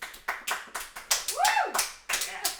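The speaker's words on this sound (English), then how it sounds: "Give us a round of applause, everybody." A small podcast studio audience clapping: about a dozen distinct, close claps with short room echo, roughly even in rhythm, while a voice lets out a rising and falling whoop in the middle.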